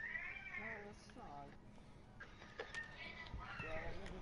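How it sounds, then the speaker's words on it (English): A cat meows several times in the video game Fallout 4, its mewing rising and falling over steady game background sound, with a voice talking around the calls. "Bad kitty."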